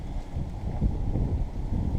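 Low, rumbling cold wind buffeting the microphone outdoors, a continuous blustery roar without voices.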